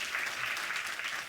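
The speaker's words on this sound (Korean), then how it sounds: "자, 다시 한번 박수 해주십시오." A congregation claps during a Sunday church service, a brief dense burst of applause filling the room.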